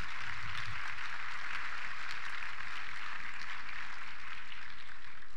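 An audience at a community assembly breaks into sustained applause, a dense, even wash of many hands clapping for several seconds. No voices rise above it.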